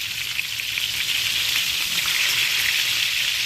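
Steak frying in a pan gives a steady, close sizzle with crackling spatter, continuous and even throughout, with no voices.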